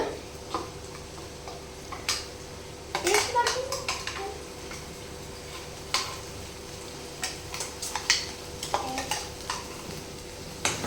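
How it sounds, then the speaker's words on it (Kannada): Ground masala paste fries softly in a pan for paneer masala, a low sizzle under scattered scraping and clinking stirs of a spoon, with faint background voices. "ಈಗ ನಾವು ಮಸಾಲೆ ಹಾಕೊಳ್ಳೋಣ್ರಿ ಮಿಕ್ಸಿ ಮಾಡಿದ್ದ."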